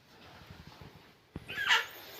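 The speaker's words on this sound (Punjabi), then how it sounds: "ਕੁੱਤਾ" A dog lets out a brief, high whimpering yip near the end, faint against a quiet background, after a few soft low sounds.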